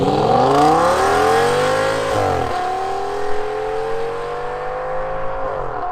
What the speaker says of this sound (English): And this is what the S8 sounds like.